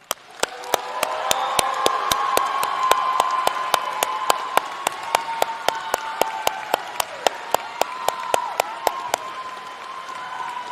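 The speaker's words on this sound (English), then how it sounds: "Please join me in giving our graduates a round of applause." Audience applause for the College of the Muskogee Nation's 2025 graduating class at a morning graduation ceremony, steady dense clapping from a large crowd lasting throughout, with sharp periodic clicks cutting through.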